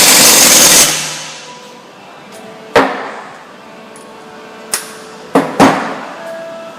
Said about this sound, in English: And then we'll tighten the bolts right here first.